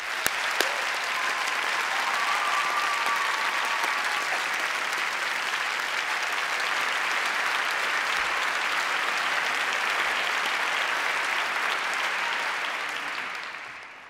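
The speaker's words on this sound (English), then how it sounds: "please can you give them a very big round of applause" Big, sustained applause from a large audience at a choir competition grand final, a dense steady wash of clapping that holds for over ten seconds before tapering off at the end, with no talking.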